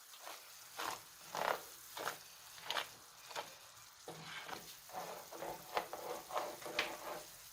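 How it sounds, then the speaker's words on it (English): Leftover fish marinade is stirred into a coconut curry sauce in a pan before salmon is added. Quiet, rhythmic scraping strokes repeat over a soft sizzle, close to the ear. "I'm going to stir this in for about 1 to 2 minutes"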